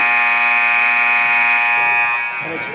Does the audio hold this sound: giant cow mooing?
no